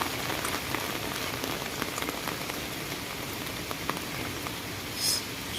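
Continuous rain falls steadily outdoors near a monitored creek, a dense, even hiss of drops on surfaces with scattered louder patters and no voices.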